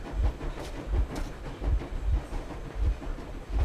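Moving train in the video game Metro Exodus, a steady low rumble with rhythmic clickety-clack pulses from the wheels and railcars, loud and continuous with no talking.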